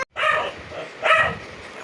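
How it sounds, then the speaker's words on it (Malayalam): A dog barks at firecrackers in two short nearby bursts of barking with a gap between them, alone without talk. "പടക്കം വയ്ക്കുന്നത് പട്ടിക്ക് ഒട്ടും സഹിക്കാൻ പറ്റില്ല. അത് കാരണം കുറച്ചുകൊണ്ടിരിക്കുകയാണ്."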